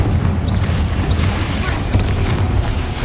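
A Confringo blasting spell bursts in Hogwarts Legacy, a loud booming explosion with a dense low rumble sustained for a few seconds, close and filling the scene.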